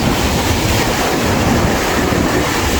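Steady roar of surf washing onto Sabang Beach in Baler, Aurora, broadband and continuous, with wind buffeting the microphone throughout.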